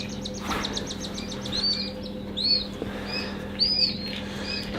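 Newly hatched quail chicks give thin, high chirps in short repeated bursts over a steady low background hum, close by and moderately loud.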